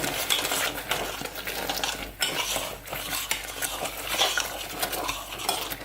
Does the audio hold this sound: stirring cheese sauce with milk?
yes